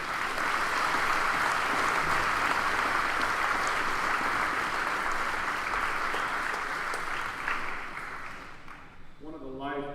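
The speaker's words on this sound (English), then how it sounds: "Please give them a round of applause" A crowd at a Class of 2021 graduation ceremony claps loudly and steadily for the graduates, a dense wash of applause that fades near the end as a voice starts speaking.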